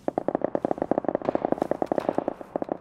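Rapid automatic gunfire in PUBG: a fast, even stream of sharp shots, moderately loud and steady, running for a few seconds with a few overlapping bursts.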